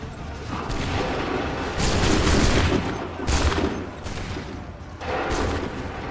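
Volleys of musket fire from a line of soldiers in Assassin's Creed 3 Remastered on Xbox One, several loud crackling bursts of massed shots, each lasting about a second, separated by short pauses.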